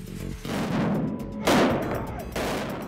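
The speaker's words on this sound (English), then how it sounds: "this rear guard wades through a sea of enemy fire" Gunfire during an ambush in Iraq: several loud bursts and booms of shooting, close and overlapping, with sharp cracks punctuating a chaotic din.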